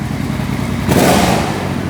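A Suzuki Boulevard 1500 motorcycle engine, just repaired after a dead battery, idles close by and then revs up sharply about halfway through, settling back to a steady, throaty idle.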